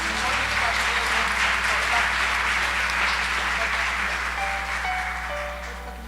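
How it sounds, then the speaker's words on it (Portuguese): A church congregation applauding during a Portuguese-language service, a dense burst of clapping that holds steady and then slowly fades, with a low hum and some voices mixed in. "Aplauda Jesus."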